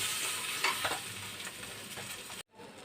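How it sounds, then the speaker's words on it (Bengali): Koi fish frying in hot mustard oil in a pan, a steady close sizzle with a few stirring scrapes, cut off abruptly near the end and resuming faintly. "বাকি মাছগুলো আমি একটু টুক করে লাল লাল করে ভেজে নিয়েছি"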